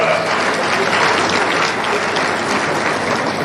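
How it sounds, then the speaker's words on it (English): Conference participants at an annual accountants' gathering give themselves a round of applause, a dense, steady wash of clapping from a large hall crowd lasting the whole stretch at strong, even volume. "So please give yourself a hand of applause."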